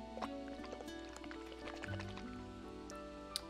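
Water drips, splashes and trickles softly in small irregular bursts close by, with faint background music and tones running underneath.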